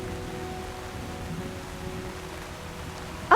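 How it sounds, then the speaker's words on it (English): Rain falling fast, a steady even wash of hiss at moderate level with no voices, ending in a short louder burst. "But then you hear the rain falling fast."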